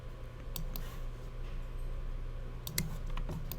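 Quick keyboard shortcut keystrokes on a computer keyboard during graphic design work, a few sharp clicks over a steady hum of room noise.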